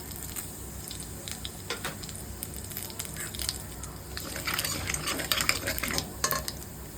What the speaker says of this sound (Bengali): এবার মাছ ভাজার তেলে সামান্য পরিমাণে তেল দিয়ে আমি এখানে ফোড়নে দিচ্ছি কালো জিরে আর শুকনো লঙ্কা